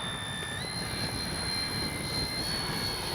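FMS 70mm A-10 Thunderbolt II RC jet makes a low pass with its gear down, giving a steady, loud turbine whine with high tones that rise slightly, continuous and without talk.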